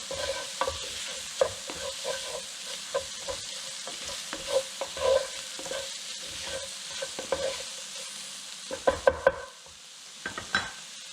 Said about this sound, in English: I'm going to give these a quick stir. We want the spices to bloom.